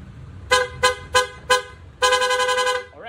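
A PIAA Gold Edition horn on a Honda ADV 160 scooter sounds loud and close in four rapid short toots, then one sustained honk that tails off into a brief falling tone.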